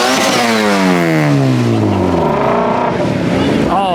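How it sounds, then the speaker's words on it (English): Exotic hypercars revving loudly on Broadway during a car week street gathering, a high engine wail sweeping down in pitch then another rev rising, close and dominant over crowd noise. "You can still hear the revving going on behind me."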